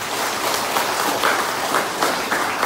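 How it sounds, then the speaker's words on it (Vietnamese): A hall audience gives a round of applause for a charity sponsor at a charity group's visit to an elderly care home, a dense steady clapping at moderate distance lasting the whole moment. "Xin mời quý vị dành cho một tràng pháo tay ạ"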